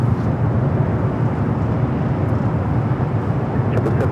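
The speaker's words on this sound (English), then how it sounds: "Hawaiian flight 810 activity from Honolulu, A330-200, next heavy arrival here on the north side." A Hawaiian Airlines A330-200 heavy jet arriving at Los Angeles International Airport from Honolulu, a loud, steady low roar of engines dominating throughout.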